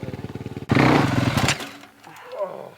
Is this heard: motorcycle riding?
yes